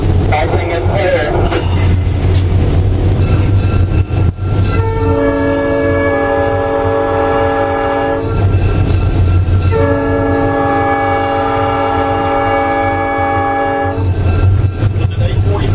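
A 100-year-old steam locomotive on the ES&NA Railway blows a loud, sustained chord horn in two long blasts, with a heavy rumble of the passing train underneath and people talking nearby.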